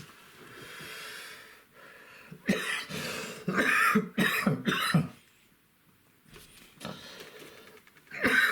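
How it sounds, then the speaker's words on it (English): Repeated harsh, wet coughs from an older man with COPD, several bursts in quick succession with breathy gaps and throat-clearing between, close and fairly loud, fading into quieter breathing toward the end. "My cough is due to COPD."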